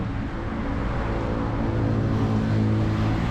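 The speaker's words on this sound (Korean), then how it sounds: "차 소리는 시끄럽지만" Continuous car traffic rumbles steadily near a bridge on the Bangkok riverside at night after rain, a dense, broadband drone of passing engines and tires with no break, moderately loud throughout.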